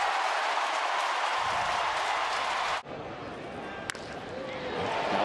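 Baseball stadium crowd roars and cheers after a double play, a broad sustained wash of noise that dips briefly then swells again, with a play-by-play announcer talking over it.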